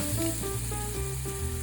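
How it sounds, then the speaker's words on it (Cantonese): About 50 g of chopped shallots sizzle as they fry in oil, giving a brief, steady crackling hiss with faint tonal background music underneath. "爆香大概50g 嘅乾葱頭碎"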